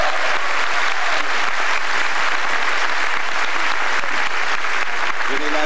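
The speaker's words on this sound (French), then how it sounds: "je voudrais m'associer aux applaudissements" Loud, sustained applause fills the room from an audience at a corporate film festival in Biarritz, dense and continuous clapping from close by for the whole stretch, with a few voices mixed into the crowd noise.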